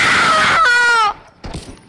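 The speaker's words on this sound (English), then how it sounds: "I like the way you yell and scream." A person yells and screams loudly and alone for about a second, a strained high-pitched shout, then cuts off and leaves only faint background noise.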